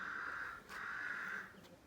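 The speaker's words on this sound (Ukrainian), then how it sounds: "Ворон, до речі, кричать." Crows caw outdoors, two or three harsh drawn-out calls in quick succession, fairly clear and moderately close with no talking.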